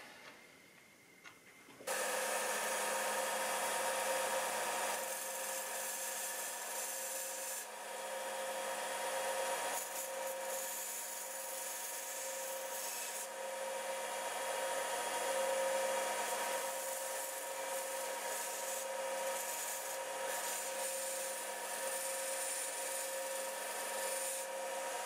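Steady scraping and rubbing as a new guitar nut is shaped and sanded during a back repair, a continuous close abrasive rasp that starts after a brief quiet moment and runs without pause, no voices.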